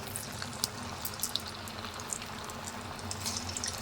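Snack batter dropped into hot oil for a Tamil evening snack, giving a steady close sizzle and bubbling hiss with scattered crackling pops throughout, no voice over it.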